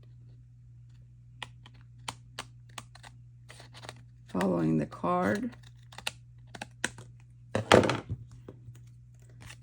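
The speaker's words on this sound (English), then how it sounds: "I'm going to take the scissors and cut behind here again" Scissors cutting card stock for a tag and pocket craft project: a series of sharp, scattered snips and clicks close by in a quiet room, with brief bits of speech between them.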